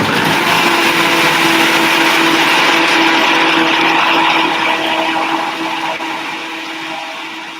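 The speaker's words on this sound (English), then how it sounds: "And then I'm just going to blend it again." A kitchen blender runs loud and continuous while pureeing chickpeas into hummus, its steady motor whine holding throughout before easing slightly toward the end.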